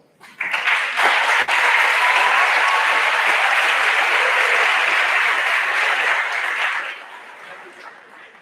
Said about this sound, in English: Please hold your applause and celebration until the end of each row.